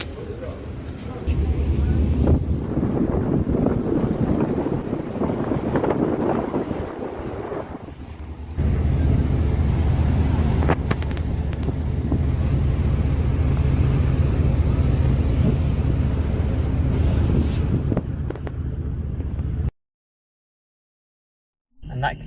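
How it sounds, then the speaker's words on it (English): Wind buffeting the microphone on a car ferry crossing, with a low rumble of ship engine and water beneath, steady and loud, briefly dropping before resuming and then cutting to silence near the end. "And that concludes the ferry ride"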